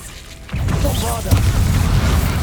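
A Bombarda spell in Hogwarts Legacy sets off a deep, booming blast that cuts in sharply and rumbles on under a swelling magical shimmer, loud and close.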